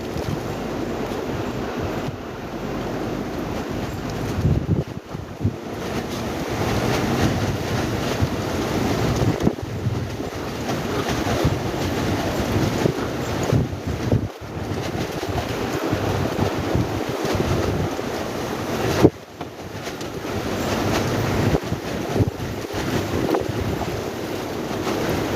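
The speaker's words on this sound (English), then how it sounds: "I don't know if you can hear the wind." Strong gusting wind from Storm Darragh in South Wales, a loud continuous roar buffeting the microphone with surging and easing blasts throughout, no voices.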